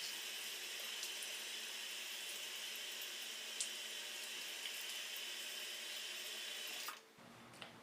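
A makeup brush is rinsed under a running tap, a steady close hiss of flowing water into a sink that stops near the end, leaving a quiet room.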